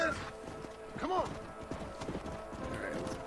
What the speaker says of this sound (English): Let's herd some horses.